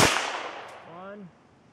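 A single full-size pistol shot is fired at a target during a shooting competition, a sharp crack close by that decays quickly.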